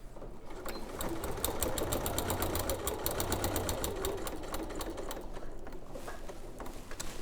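A sewing machine stitches a fabric basket, its quick, even needle rhythm running steadily for several seconds at close range.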